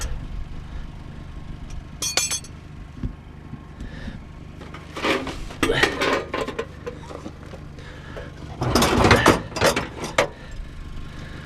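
Metal tools, including speed wrenches, clank and rattle as they are pulled from a scrap metal pile, with irregular bursts of clinking and scraping between quieter moments.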